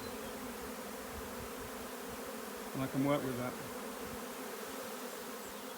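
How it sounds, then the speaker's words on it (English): A swarm of honey bees buzzes steadily around a small hive box, with a louder, closer burst of buzzing in the middle as bees fly near; a voice speaks briefly. "I'm going to smoke the top anyway just to loosen those bees off a bit, but they're all coming down."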